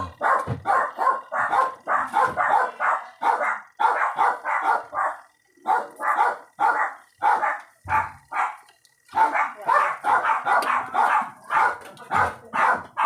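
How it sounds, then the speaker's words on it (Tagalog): A dog barks repeatedly in quick, steady bursts, close and loud, continuing almost without pause with only brief gaps. "Ingay naman ang aso."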